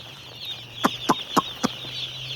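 Village farm chickens cluck four times in quick succession, close by, with a low steady hum underneath and no talk.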